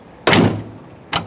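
Two solid thunks from the door of a rust-free classic car at a car show, the first a louder latch clunk and the second a shorter knock a moment later, close by with no talking.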